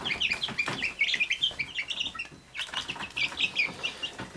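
Chickens chirping and peeping in a busy cluster, with bursts of wing flapping mixed in, close by and lively.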